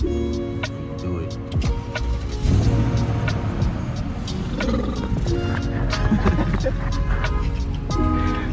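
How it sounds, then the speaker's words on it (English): A BMW X5 engine starts and settles into an idle, a steady low rumble running throughout with some clicking and mechanical noise on top, recorded close by. "I'm about to go ahead and start my car up, let it run real quick"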